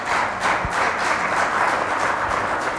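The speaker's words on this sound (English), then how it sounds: "Shall we give them a round of applause?" Sustained crowd applause at a Christmas concert in Manchester or Birmingham, a dense steady wash of many hands clapping, loud and continuous throughout with no talk over it.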